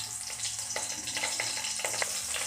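Chopped garlic and green chillies fry in a hot pan, a steady close sizzle with small crackles and occasional stirring clicks, no voices over it.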